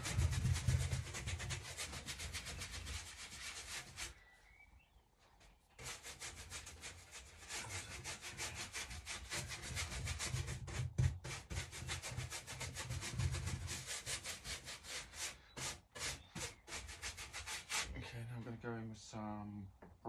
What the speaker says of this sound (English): So I'm just going to put the clear wax on first.